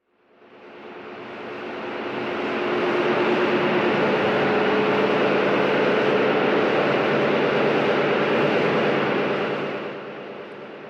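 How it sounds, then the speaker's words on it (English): Cargo ship engines running, a broad steady roar with a low rumble that fades in, holds at constant loudness for several seconds, then tapers slightly at the end, with no voices. "This is the sound of a cargo ship's engines."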